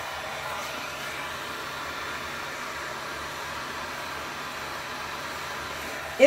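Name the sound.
heat gun heating resin jewelry piece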